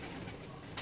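A pigeon coos once, a short muffled call close by, heard alone over a steady low background hum.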